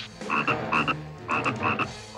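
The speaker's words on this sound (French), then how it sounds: "Mon crapaud porte-bonheur, ne le laisse pas s'enfuir." A cartoon lucky toad croaks in repeated bright, buzzy bursts, two-part calls in a loose rhythm, loud and close with no talking.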